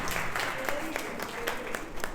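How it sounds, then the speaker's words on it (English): Applause from an audience at a teaching session held for ex-alumni at Modi College, clapping kept up steadily for a couple of seconds with a speaking voice mixed into it. "Big round of applause for ex-alumni."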